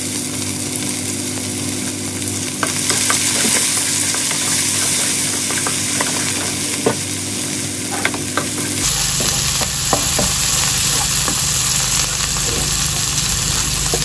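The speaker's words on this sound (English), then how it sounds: "Prituin na natin yung onion. Magigisa na tayo, guys." Onion sautéing in a home kitchen pan, a loud continuous sizzle with scattered crackles and stirring scrapes, the texture shifting partway through as the frying settles.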